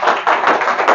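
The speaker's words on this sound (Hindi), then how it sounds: "एक बार ताली बजाइए ऊपर वाले को।" An audience clapping hands in a brief, dense burst of applause that stays loud and steady for about a second.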